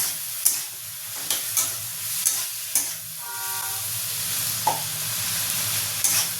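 Ginger garlic paste stir-fried in a pan for a Bengali prawn and pointed gourd dish: a soft sizzle broken by sharp, repeated clinks and scrapes of a spoon against the pan, no speech.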